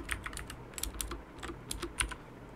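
Typing code on a computer keyboard, with quiet close key clicks in quick irregular bursts and no talking.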